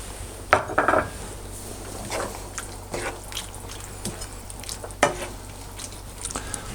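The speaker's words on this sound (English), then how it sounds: "at the same time while I'm turning it around, you see I'm smushing up the tomatoes" A spoon scrapes and clinks inside a pot of beef chili while tomatoes are mashed, irregular metallic knocks and soft squelches over a steady low hum, close and moderately quiet.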